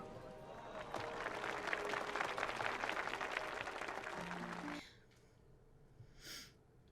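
An audience clapping during the film Wicked For Good, a dense, steady burst of applause lasting about four seconds before cutting off to quiet, with brief breathy sounds afterward.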